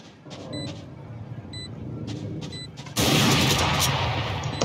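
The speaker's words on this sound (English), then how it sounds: "You have one bullet in your sniper. No problem. One hit." A loud burst of gunfire from a sniper rifle in the tactical shooter Valorant strikes at about three seconds, sharp and wide, over a busy bed of game noise with small beeps earlier.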